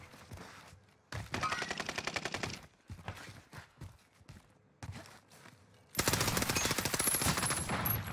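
Gunfire in the Warzone video game as a player shoots through walls: rapid automatic bursts separated by short gaps, ending in a louder, denser stream of shots.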